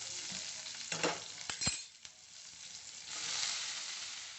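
Two dried red chillies frying in oil for radish sambar, a soft sizzle with a few quick stirring scrapes and a gentle hiss that swells again toward the end.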